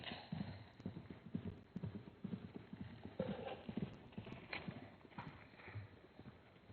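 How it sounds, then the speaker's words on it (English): Hooves of wild horses in the Namib Desert thud and clop on the ground as they move about nearby, an uneven patter of steps over a soft outdoor background. "These horses running around here"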